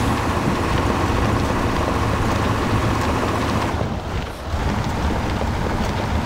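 A truck plows through deep water in the Spintires off-road game, a continuous loud rushing and churning roar with a brief dip midway, no talking.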